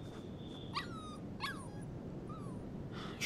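A puppy in the video game Life Is Strange 2 whimpers in a few soft, high, wavering yelps, spaced apart over a quiet outdoor background.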